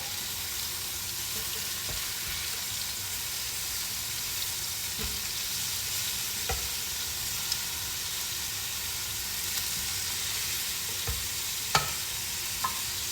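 A chuck roast of beef sears in a pot with a steady, close sizzle and crackle, occasional sharp pops and spits breaking through the continuous frying hiss.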